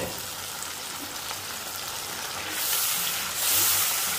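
Chana kababs cooking in a covered pan over a medium-low flame, giving a soft steady sizzle and hiss that brightens and grows louder toward the end, with no voices.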